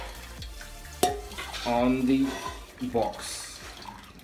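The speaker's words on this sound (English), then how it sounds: "I'm just trying to drain out the water." Hot water being drained from boiled Hakka noodles in a kitchen, with clattering of a pot or strainer, a sharp knock, and intermittent splashing and pouring, close, under a voice speaking briefly.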